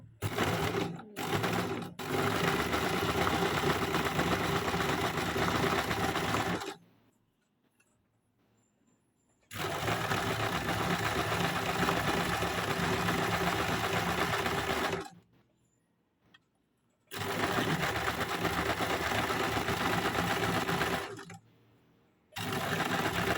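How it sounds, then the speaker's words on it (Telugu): A sewing machine with a roller foot runs a zigzag stitch in long, close, rapid rattling bursts, separated by a couple of quiet gaps, with no talking. "ఇప్పుడు జిగ్జాగ్ స్టిచ్ పెట్టి స్టిచ్ చేస్తాను."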